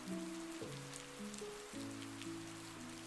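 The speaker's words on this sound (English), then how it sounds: "they stepped out into the steady rain" Steady rain falls in a quiet forest as a soft, even hiss with scattered droplets, while gentle sustained musical tones play low underneath.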